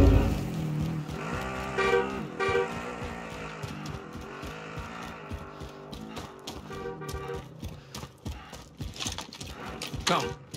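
A vehicle driven in the video game Warzone, its engine a busy continuous drone with rattling bumps and a few horn-like tones, fairly loud, with voices talking over it at times.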